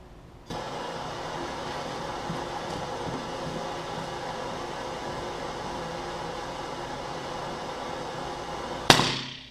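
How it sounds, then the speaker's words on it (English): A silly string aerosol can heated by a torch hisses loudly and steadily for several seconds, then bursts with a sharp explosive crack that blows a hole in the side of the can, followed by a fading rush. "Okay, that one blew a hole clean in the side of the can."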